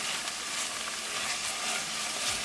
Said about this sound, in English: Cooking spices along with tadka for 1 minute.